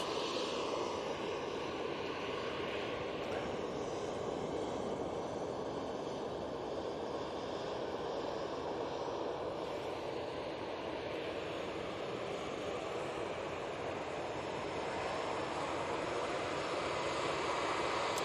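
An easyJet airliner bound for Paphos moves at Manchester Airport, its engines making a continuous, fairly distant roar that stays steady throughout with no talk over it.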